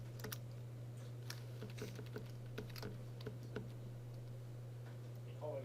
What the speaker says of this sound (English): I'm going to type in alt 123